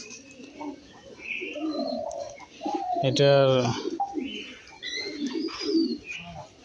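Pigeons, including a Shirazi pigeon, coo in soft throaty bursts among a flock kept in a loft, near and moderately loud, with someone speaking briefly alongside them.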